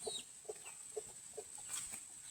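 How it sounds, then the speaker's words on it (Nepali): Local organic chickens cluck softly in a steady, repeated rhythm as they are let out of their coop, with faint background hiss and distant bird calls. "म चाहिँ अहिले मात्रै कुखुरा पनि खोल्दैछु है साथी हो।"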